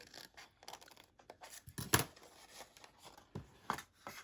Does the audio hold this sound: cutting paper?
yes